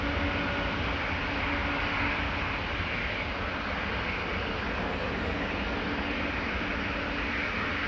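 Boeing 737 airliner departing Amsterdam Schiphol Airport, a broad, steady jet roar that stays loud and constant throughout, with no voices.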